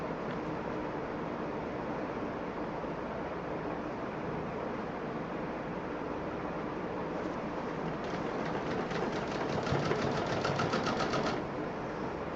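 A sewing machine stitches a utility bag belt, a steady whirring hum running throughout, with a faster rhythmic needle chatter rising toward the end.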